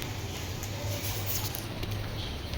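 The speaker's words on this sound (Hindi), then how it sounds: "और बारिश हो रही है।" Rain falls steadily outdoors as an even, continuous patter and hiss with no break, with nobody speaking.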